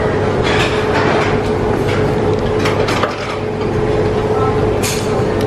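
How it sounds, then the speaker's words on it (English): Train rolling past in Bangkok near Siam Center, a steady dense rumble with rhythmic clatter from the rails, loud and continuous throughout without talk. "Here comes the train."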